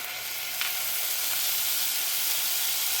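Ginger paste hits hot oil with cumin powder and sizzles in a steady, close, bright hiss of frying that runs unbroken throughout, with no talking.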